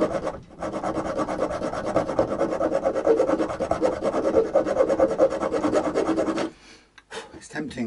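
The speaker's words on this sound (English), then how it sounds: "Surrenders your alloy to the ravages of the file." A hand file rasps across an alloy guitar bridge part in steady, rapid back-and-forth strokes, loud and close, then stops abruptly near the end with a few faint scrapes.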